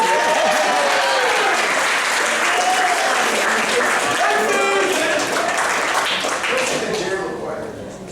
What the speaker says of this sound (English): So let's give Todd a round of applause for pulling the tape.